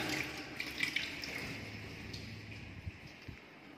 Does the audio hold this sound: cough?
no